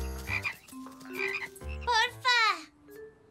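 Cartoon frogs croak in a Spanish-language animated children's episode, several bright, warbling croaks in quick succession, some rising and falling in pitch, close and clear with background music and no talking.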